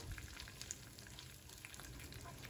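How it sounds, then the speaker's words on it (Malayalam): Curry leaves and green chillies sautéing in hot oil for a Kerala-style crab curry give a faint, steady crackling sizzle with light stirring, close by and without any talking. "കുറച്ച് കറിവേപ്പില ചേർക്കാം പിന്നെ മൂന്ന് പച്ചമുളക് ചേർക്കാം എന്നിട്ട് ഒരു മിനിറ്റ് ചെറുതായിട്ടൊന്ന് വഴറ്റിയെടുക്കാം"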